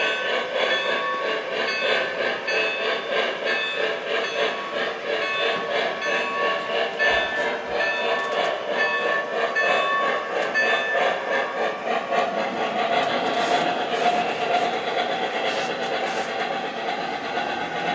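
A small DCC model train locomotive at speed step 2 hums and rumbles steadily as it runs, with a continuous mechanical whir and faint clicking, close by and fairly loud.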